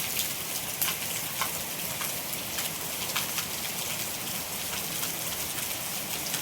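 Heavy rain pours steadily in Porbandar, a dense, even hiss of drops on surfaces with no let-up and no voices.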